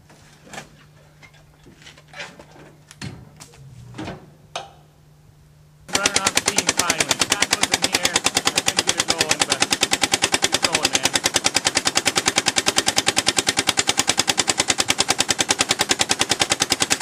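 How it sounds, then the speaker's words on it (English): A biogas-fuelled engine fires up after a few faint clicks and thumps, then runs loud and steady with a fast, even rapid-fire chugging that continues to the end. "when we start it up and get some biogas going to it, we'll watch the engine run"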